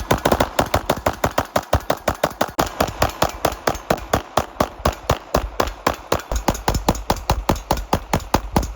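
A machine gun fires in long, rapid, evenly spaced bursts, each report loud and sharp, repeating without pause through the whole stretch.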